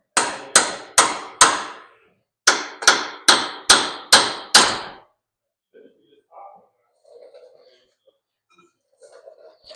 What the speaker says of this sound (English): hit the pry bar with the hammer